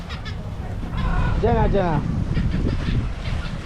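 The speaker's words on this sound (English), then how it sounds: "Seagull." Seagulls call in a few harsh, wavering cries outdoors in the Bahamas beside an outdoor cooking spot, heard over steady wind noise and low rumble while someone speaks nearby.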